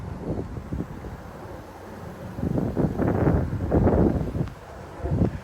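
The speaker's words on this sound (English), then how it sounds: "it's pretty windy out today" Gusty wind of around 30 mph sweeps through live oaks and yard trees in Frisco, Texas, a steady rushing hiss that swells into louder surges and rustling bursts midway, with no talking.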